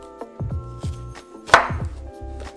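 A knife chops through a lemon on a cutting board in a kitchen, several distinct knocks at a steady, uneven rhythm with one sharper louder cut midway, close up with no talking.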